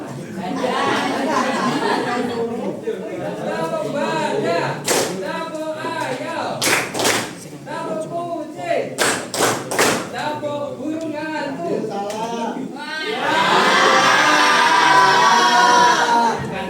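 A classroom of children chants and claps a rhythm game, sharp group claps landing in short bursts between voices, ending in loud overlapping chatter and singing.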